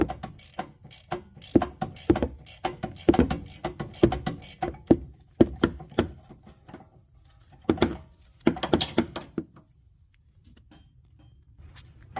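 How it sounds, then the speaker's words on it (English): A ratchet wrench clicks in quick bursts while working on the front and rear brakes of a 2016 Mazda 6, a rapid pawl rattle repeating in close, loud runs with short pauses and a quiet stretch near the end. "Number 15 ratchet."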